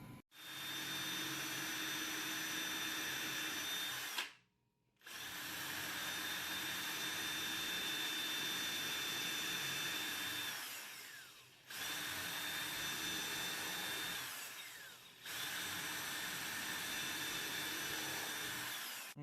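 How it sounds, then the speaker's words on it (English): A power drill whines steadily as it bores through a wooden board for a wool picker, running in three long bursts separated by brief pauses, close and loud. "running my drill through there to get that pattern"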